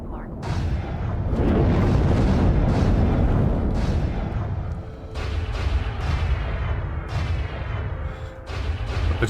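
Triple cannons and mass drivers firing in a space battle in the game X4: dense, rumbling booms and rapid repeated blasts that build into a loud sustained barrage, with someone talking over it.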